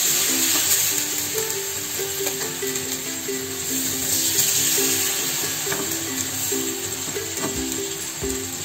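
Semolina cheela batter spread on a hot pan over a low flame, giving a steady, loud, bright sizzle and frying hiss throughout with faint scraping, no talk.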